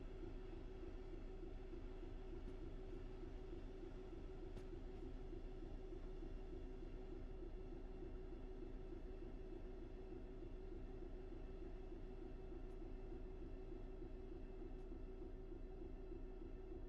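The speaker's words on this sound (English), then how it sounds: "Big freight train, this, isn't it?" Simulated freight train in Train Sim World 6 on the Medway Valley Line rumbles steadily with a droning engine hum and low rolling rail noise, continuous and fairly quiet, no voices.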